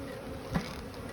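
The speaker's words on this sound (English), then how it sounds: "for the amount of bees in here, which isn't very many compared to these other hives, they are more defensive" Honeybees in an opened hive with few bees hum in a low, steady, faint drone, with one soft tap in the middle.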